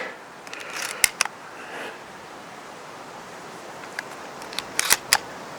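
Shotgun shells clicked into a Benelli M4 shotgun with a mag loader, a few sharp metallic clicks near one second and a cluster of snaps near the end over quiet room noise.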